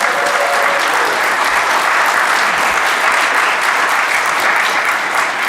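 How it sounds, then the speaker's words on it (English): A congregation at a Unitarian Universalist church gives sustained applause, a dense wash of many hands clapping steadily and loudly for several seconds with a faint murmur of the crowd beneath. "so let's give her a round of applause"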